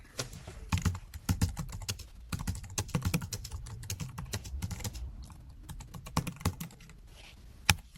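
Keys clatter on a computer keyboard as a post is typed, quick irregular bursts of sharp clicks with short pauses between, fairly close and quiet, no voices.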